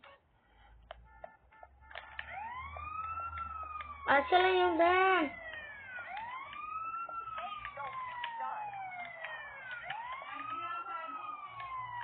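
An ambulance siren wails in repeated rising and falling sweeps, fairly close, while a person speaks briefly and some clicks and knocks sound underneath.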